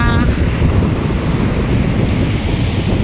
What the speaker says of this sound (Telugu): ఈసారి ఎందుకో కానీ చాలా పెద్ద పెద్ద అలలు వస్తున్నాయి